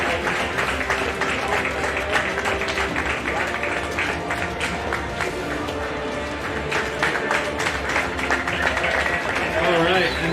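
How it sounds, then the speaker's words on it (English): Applause from a crowd at a skydiving hall of fame awards ceremony as the overall podium winners line up for photos, a steady dense patter of clapping sustained throughout with voices mixed in. "Give them a big round of applause, everybody"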